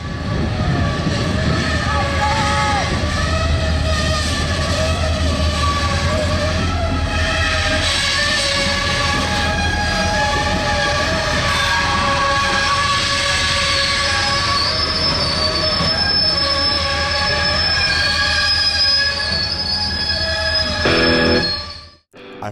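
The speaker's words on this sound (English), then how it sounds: "A former Southern Pacific Tunnel Motor unit working the Y-101 yard job." A former Southern Pacific Tunnel Motor diesel locomotive works a rail yard, its loud engine drone joined by sustained high-pitched wheel squeal from the cars, continuous and close until it cuts off at the end.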